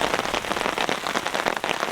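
Steady rain patters on surfaces around a campsite in Canterbury, New Zealand, a dense continuous hiss of drops close by with no voices.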